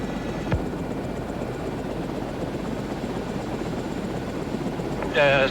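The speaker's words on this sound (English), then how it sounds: "thanks to the directions of the helicopter" A police helicopter drones continuously overhead during a chase, a steady rotor rumble at moderate distance, with a brief sharp knock early and a burst of radio-like noise at the end.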